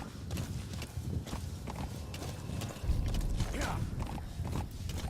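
A horse's hooves clip-clop in a steady walking rhythm in the Metal Gear Solid video game, moderately close, with faint game ambience underneath.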